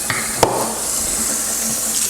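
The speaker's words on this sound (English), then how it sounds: "I'll rinse this out too before I put it back out in the garage." Water runs steadily from a tap into a sink as a ceramic case is rinsed out, a continuous close hiss of flowing water with a sharp knock near the start.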